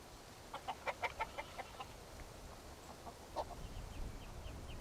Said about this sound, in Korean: 이번에는 들깨를 유인하기 위해 살아있는 닭 몇 마리를 동원했다.